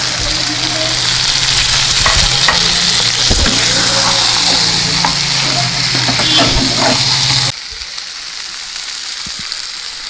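Crab pieces and fried potatoes sauté in a hot pan for crab curry, giving a loud, steady sizzle with scraping stirs for about seven seconds before the frying drops to a quieter hiss.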